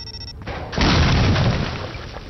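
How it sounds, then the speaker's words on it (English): A C4 charge goes off in the video game Zombi, a single heavy boom that swells after a brief lull and rumbles on for over a second before slowly fading. "It's quite the explosion."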